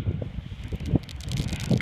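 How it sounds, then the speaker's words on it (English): Wind buffets the microphone in low, gusty rumbles, rising and falling in quick bursts with no talking. "It's real windy."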